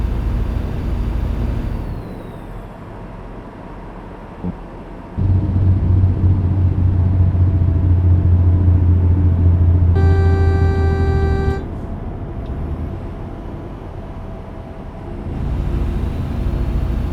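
An American Truck Simulator big-rig engine drones steadily while climbing a grade, its low rumble growing heavier partway through. A loud, sustained truck horn blares for a moment in the middle.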